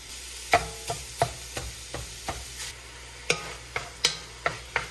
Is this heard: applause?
no